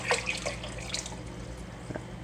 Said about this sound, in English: we'll get some water in the pan